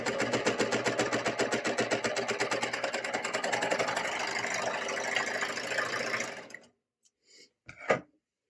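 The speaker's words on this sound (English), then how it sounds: "And this sews my binding on really nicely." A sewing machine stitches binding onto a fabric mask in a fast, steady mechanical rattle that runs for about six seconds, then stops, leaving a couple of faint clicks and a short scrape.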